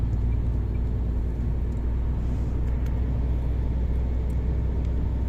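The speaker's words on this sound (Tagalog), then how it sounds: "Guys, puro mga truck na yung mga kasabayan dito." Trucks driving alongside on a road between Germany and the Netherlands, heard as a steady, loud low rumble of engines and tires that continues throughout without a break, with no talk.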